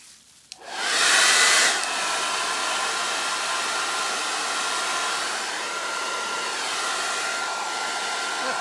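A hair dryer blasts steadily and close while drying alcohol inks on vellum, starting with a click and a brief louder surge before settling into a constant airy roar.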